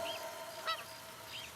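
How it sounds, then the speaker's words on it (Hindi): Birds calling from bushes give a few brief honking, goose-like cries spaced across under two seconds over a steady low background hiss, moderately near, with nobody speaking. "आवाज सुनो, चिड़ियों की आवाज"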